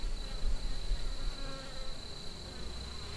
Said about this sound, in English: There's a bee on my hand.